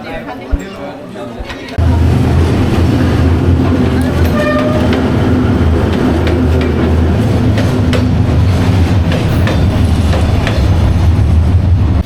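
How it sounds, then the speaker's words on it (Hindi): A train rolls past loudly on a Vietnam railway line over a cap placed on the rails, with a steady heavy rumble and brief horn toots. People talk underneath. "इन लोगों ने डाला हुआ है वहाँ पे कैप, वहाँ पे रखा है वहाँ पे, और उसको फ्लैट हो जाएगी जब ट्रेन जाएगी यहाँ पे।"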